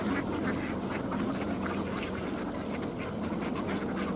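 Wintering ducks quack repeatedly on open water at Tsarskoye Selo, with several calls overlapping at moderate distance over steady outdoor ambience, and no talking.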